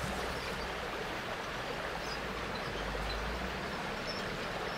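Continuous watery sloshing and rushing as a soldier wades through water in the Pacific jungle of Medal of Honor: Pacific Assault, a steady, dense wash with a low rumble beneath it.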